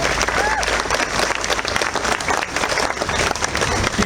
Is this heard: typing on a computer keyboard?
no